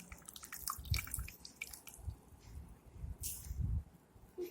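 Bread for chicken cutlets being squeezed by hand to press the liquid out, giving a run of soft wet squelches and scattered drips into a bowl, faint and close with no talking.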